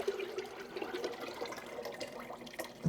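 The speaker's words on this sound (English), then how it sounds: "I'll get this poured over into the pot." Homemade chicken broth pours from a container into a canning pot, a soft, steady splashing stream of liquid heard alone.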